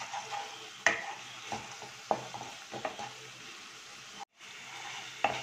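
Spice mix with sugar and cumin powder being stirred in a pan, a faint low sizzle under repeated sharp scrapes and clinks of a spoon, with a brief dropout near the end.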